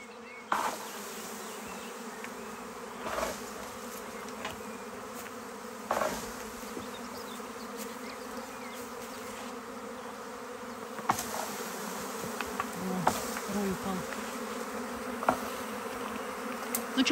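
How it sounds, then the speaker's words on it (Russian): A swarm of bees buzzes steadily around a rural homestead yard, a dense continuous drone with occasional louder passes as individual insects fly close to the microphone. "Сейчас пчелы налетят на тебя."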